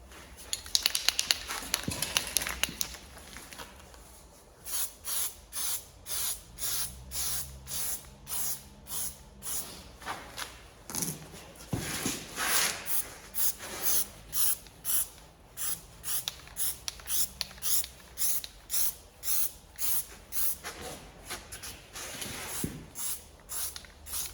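Spray paint goes onto a part of a blue MK2 Golf GTI 16v in a heavier coat, heard as a string of short, close hissing bursts in a fairly regular rhythm after an opening longer spray.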